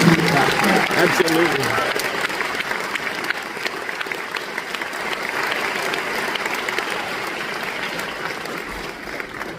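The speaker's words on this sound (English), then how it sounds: "let's just give a huge round of applause" Audience applause at a county high school concert, a full burst of clapping from a large indoor crowd that gradually thins, with a brief spoken word near the start.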